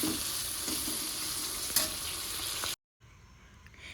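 Chillies, onion and garlic frying in an iron wok, a steady sizzle with scraping stirs and one sharp clack, cutting out abruptly before a quieter sizzle returns.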